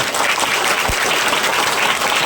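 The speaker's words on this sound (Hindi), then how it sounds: "एक बार पूरा चुना इसके लिए बार जोरदार ताली बजाइए।" Loud, continuous applause from an audience at an Independence Day school event for children's folk music performance from Nagar Mahavir Public School, steady dense clapping filling the whole stretch with no voices.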